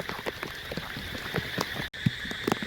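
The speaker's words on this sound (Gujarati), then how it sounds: "વરસાદ ચાલુ જ છે" Steady rain falling on a village road, a dense patter of drops on surfaces with scattered louder splats, close and continuous.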